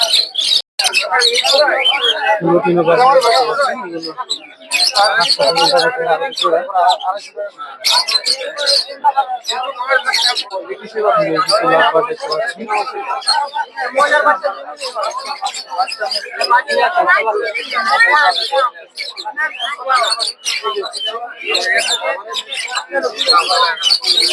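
Busy, noisy bird and pigeon market ambience at Putia, Narsingdi, with many birds chirping and Sirazi pigeons cooing throughout, mixed with constant chatter from people nearby.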